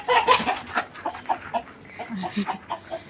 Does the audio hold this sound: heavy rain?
no